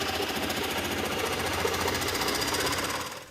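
Rapid, continuous metallic hammering or machine-like pounding from welding, cutting and hammering metal work at a makerspace, loud and steady for about three seconds before tapering off at the end.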